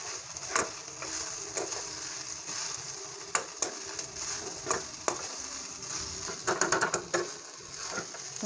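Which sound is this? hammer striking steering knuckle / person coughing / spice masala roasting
spice masala roasting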